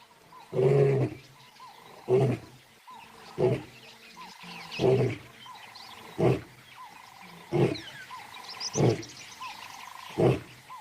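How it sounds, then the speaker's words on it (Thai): A male lion roars on returning from patrol in the grassland, a series of deep, powerful bursts repeating roughly every one to two seconds, loud and close with no talk. "มันเป่าประกาศทั้งที ด้วยการส่งเสียงคำราม ซึ่งจะได้ยินไปไกลถึง 8 กิโลเมตร"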